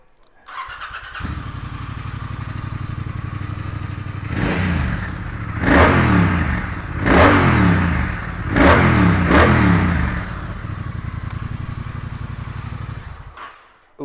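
A 2016 Triumph Thruxton R 1200 ABS motorcycle starts up and settles into a steady idle, then gets several sharp, loud throttle blips in a row before dropping back to idle, heard up close with no talking.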